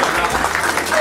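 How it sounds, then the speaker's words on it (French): A dense wash of audience applause at an annual association gala fills the whole moment, steady and fairly loud, with crowd noise mixed in. "mais quand même, on peut l'applaudir."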